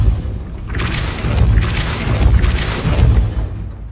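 The Depulso spell strikes in Hogwarts Legacy with a loud, close impact, followed by repeated booming thuds and crashes in pulses over several seconds, heard alone without talk.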